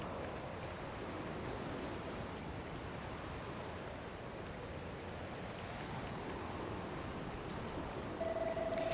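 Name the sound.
waterfall flowing over a cliff in Dragon Quest Builders 2 video game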